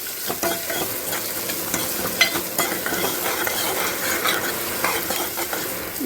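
Three medium-sized onions fry in hot oil in a pan, a loud continuous sizzle with repeated scraping and stirring strokes of a utensil against the metal, close up and without speech.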